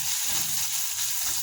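Vermicelli fries with crushed garlic and cumin in a close, steady, dense sizzle that holds even throughout, with no voices.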